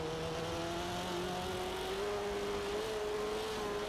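A rally car engine in Forza Horizon 2 drives on gravel, a steady droning hum with a slowly rising pitch under constant road noise, with no talk.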